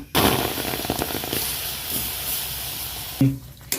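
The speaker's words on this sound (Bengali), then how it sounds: "এবার আমি যে আমটা গ্রেট করে রেখেছিলাম কড়াতে দিয়ে দেবো" Grated mango tipped into a hot kadai for mango jam gives a loud, crackling sizzle with rapid pops. It settles into a steadier hiss, then a sharp scrape of a spoon against the wok near the end.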